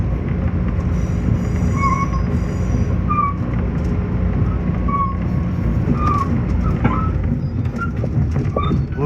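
Steady low rumble of an M7 commuter train car running between Penn Station and Ronkonkoma, with faint intermittent wheel squeals rising above the continuous rolling noise throughout.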